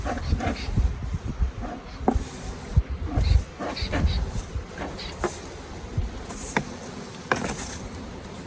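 Honey bees hum around an open hive during a spring inspection, a low buzz beneath scattered knocks and rustling handling sounds from the beekeeper working the boxes outdoors.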